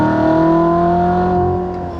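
A Chevrolet Corvette C7 Z06 at full throttle, its engine roaring loud and close with a steady rising pitch of strong harmonics through the whole burst, no talking.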